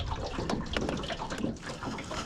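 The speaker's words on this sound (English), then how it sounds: "And dropping the anchor" An anchor is dropped from a fishing boat into a shallow winter lake, giving a continuous close splashing and gurgling of water that runs for a couple of seconds.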